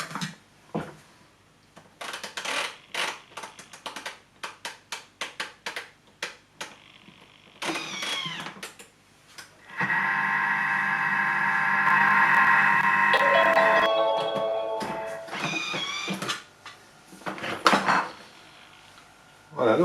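A Thermomix whirs steadily at speed 3 while mixing chocolate truffle dough with egg yolks, a loud sustained motor hum lasting several seconds, preceded by clicks and handling clatter.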